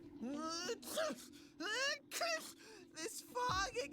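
Cartoonish character sneezes in the Persona 4 Arena Ultimax fighting game, several voiced sneezes and gasping breaths in quick, uneven succession over a low steady hum, close and clear.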